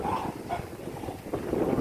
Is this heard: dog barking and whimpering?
yes